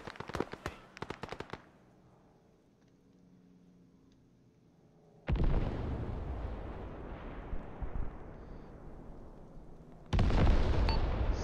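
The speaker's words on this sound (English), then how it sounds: "Bombs away." Aircraft-dropped bombs in ARMA 3 detonating: a brief crackle of sharp bangs, a quiet pause, then a heavy, rumbling blast that rolls on for several seconds before a second loud explosion hits near the end.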